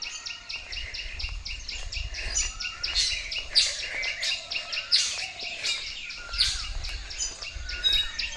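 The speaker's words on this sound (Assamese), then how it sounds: "ইমান চৰাই মাতি আছে" Many birds chirping and calling together during an early morning walk outdoors, a dense, steady chorus of sharp repeated tweets with a low background rumble and no talking.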